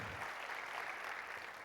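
An audience at the Sanlam Benchmark 2025 event applauds an opening performance, a faint, steady wash of clapping with no pauses.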